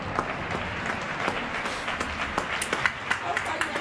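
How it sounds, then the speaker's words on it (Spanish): Applause from balconies in Getxo for healthcare workers, a steady wash of many people clapping from surrounding buildings with scattered sharper claps and some voices mixed in throughout. "Aplaudimos."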